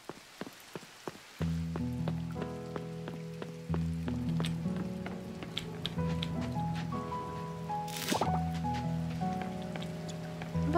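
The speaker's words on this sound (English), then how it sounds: "Listen to the rain for a while." Steady rain patters on a surface in the game Coral Island, mixed with a low droning musical hum that shifts tones; no voices.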